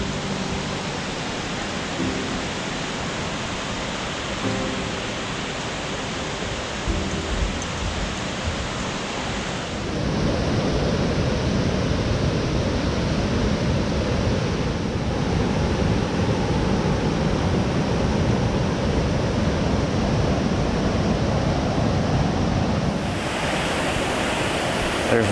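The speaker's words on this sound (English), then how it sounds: "in the background is Triple Falls with its magnificent sound." A steady, loud roar of rushing water from Triple Falls in western North Carolina fills the air, constant and broadband, with no voices.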